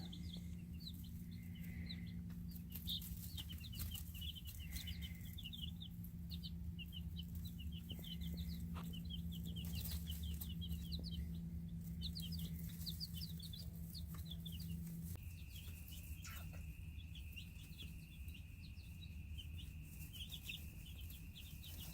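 Young hens only about a week old give soft, repeated chirps and clucks, faint and close, over a steady low hum.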